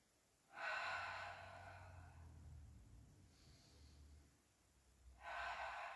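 Slow, deep breaths during a yoga hip stretch, faint and close: a long airy inhale-exhale, a softer breath in the middle, then another strong breath starting at the end.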